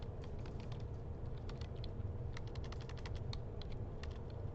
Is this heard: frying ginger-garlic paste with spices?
no